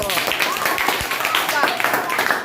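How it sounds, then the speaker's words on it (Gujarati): Classroom clapping in a Gujarati government school, a fairly steady patter of hands from a group of children, with voices and chatter mixed in throughout. "તાળીઓ"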